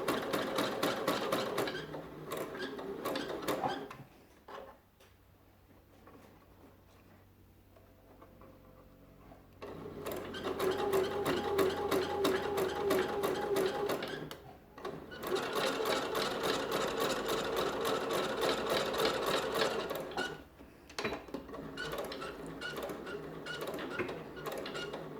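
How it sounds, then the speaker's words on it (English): A sewing machine stitches rows of shirring with elastic thread, a rapid close mechanical whirring that runs in bursts, pausing briefly between rows before starting up again. "When you are shirring, it can be quite a bit of noisy process."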